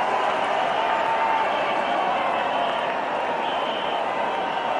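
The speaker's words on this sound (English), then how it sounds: "The crowd's loving it." Cricket stadium crowd at an India vs West Indies World Cup match applauding a Yuvraj Singh shot, a broad, continuous roar of clapping and cheering throughout.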